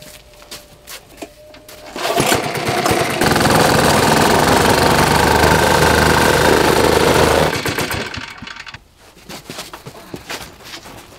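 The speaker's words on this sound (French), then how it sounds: "Puis, passe à nouveau la plaque vibrante." A vibratory plate compactor passes over freshly laid paving stones in a sanded driveway, starting with a rising rattle, then running as a loud, steady, close buzzing drone for several seconds before cutting back to quiet scraping and taps.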